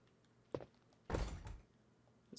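Locked door being tried in the Resident Evil mansion game: a sharp knock, then a heavy rattling thud of a few tenths of a second as the door resists, loud against quiet ambience.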